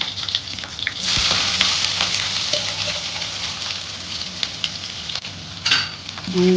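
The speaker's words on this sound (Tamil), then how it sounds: "போட்டு நல்லா வதக்கி விட்டுடலாம். நல்லா வதங்குதுங்க." Onions sautéing in a pan with cloves and a green chilli for a chicken biryani gravy, giving a loud, steady close-up sizzle and frying hiss with brief stirring noises throughout.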